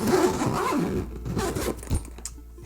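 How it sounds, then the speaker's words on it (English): A zip on a travel camera bag pulled open in one continuous rasping run lasting a couple of seconds, close and clear with no talking over it. "So there's a zip here"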